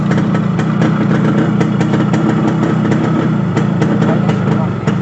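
A Yamaha RX100 motorcycle engine idles after a hard kick start, its exhaust putting out a loud, close, rapid two-stroke putter that keeps running with slight unevenness.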